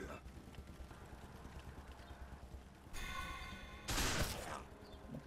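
Gunfire in the video game Wasteland 2 cracks out in two sharp bursts about a second apart, standing out from a low background under someone talking.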